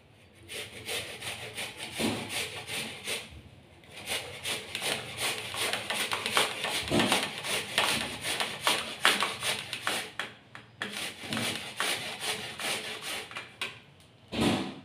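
Carrots scraped against a hand grater for carrot halwa, a continuous close rasping in quick repeated strokes with a few short pauses, alone without talk.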